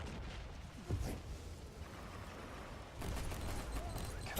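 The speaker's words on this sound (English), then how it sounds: "The Sentinel autocannon's messing me up." A Sentinel autocannon fires in Warhammer 40,000: Inquisitor Martyr, bursts of booming shots over a constant wash of battle noise, growing heavier in the final second.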